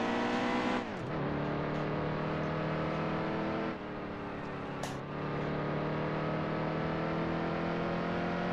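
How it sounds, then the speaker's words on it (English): NASCAR truck engine in NASCAR Heat 2 on Xbox One, the number 52 truck, droning loudly and continuously at high revs, with a few sharp gear shifts or lifts breaking the steady roar. "I'm driving the number 52 Hallmar truck"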